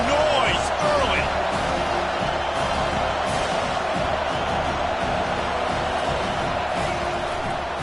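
Stadium crowd at a Navy college football game, a steady loud roar of many voices filling the space throughout, with a commentator's voice running over it.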